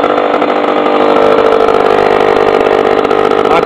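An engine turns over fast at high idle, a loud, steady buzzing drone that holds for several seconds, close by and alone.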